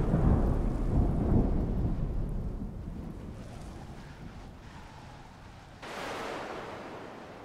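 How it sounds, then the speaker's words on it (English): A thunderstorm with rain in the video game Smalland: a long rumble of thunder fades over steady rain and wind, then a fresh burst of hiss and rain swells near the end. "I gotta wait till the storm passes,"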